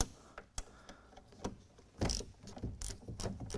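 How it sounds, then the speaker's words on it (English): Small 8mm screws being worked loose from a door mirror on a Honda Integra project car, heard as a series of close, sharp mechanical clicks and ratcheting taps with brief pauses, louder clustered clicks near the end, no talking. "We have some little 8mm screws here that we're going to remove."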